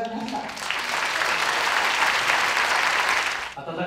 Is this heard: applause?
yes